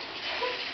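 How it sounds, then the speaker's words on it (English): A bathroom water tap runs in a steady, close splashing hiss, heard only briefly. "Turn the water off."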